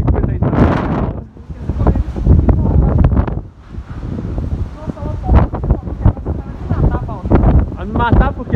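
Very strong wind in Governador Valadares buffets the microphone in heavy, roaring gusts that rise and fall, with people talking over the turbulent rush.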